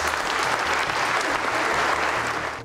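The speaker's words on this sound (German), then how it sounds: "Bei seinem Besuch in Mödlareuth trifft Kohl auf viele jubelnde Menschen." A large crowd applauds and cheers for Helmut Kohl on his visit to Mödlareuth, steady loud clapping throughout that fades at the very end.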